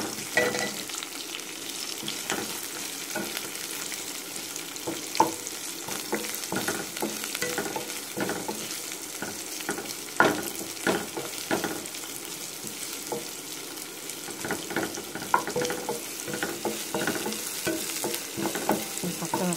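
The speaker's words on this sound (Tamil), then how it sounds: "பச்சை வாசனை போகிற வரைக்கும் நல்லா வதக்கணும்" Curry leaves, onion and green chili sauté in a pan for a banana stem stir-fry: continuous crackling sizzle with frequent spatula scrapes and taps across the whole stretch, close and moderately loud.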